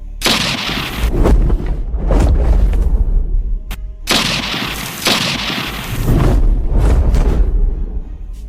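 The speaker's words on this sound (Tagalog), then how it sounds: "Malulutong na putok ng baril ang pinakawala ng mga kidnapper sa aswang na humarang sa kanila." Kidnappers fire guns at an aswang in a horror tale: a few heavy, booming shots with long rumbling tails, loud and dramatic, with no talking.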